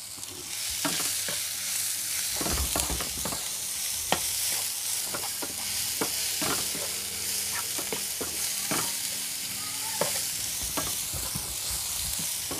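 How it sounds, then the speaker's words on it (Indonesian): Onion sautéing in a hot pan, a steady close sizzle carrying through with frequent sharp clicks and scrapes of a spatula stirring, no talking. "Untuk bawang bombaynya menumisnya sebentar aja"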